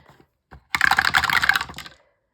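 Eight colored dice tumble and clatter across a hard surface, a brief tap first and then a dense burst of rapid rattling clicks that settles within about a second.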